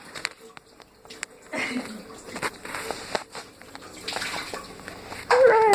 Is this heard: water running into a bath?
yes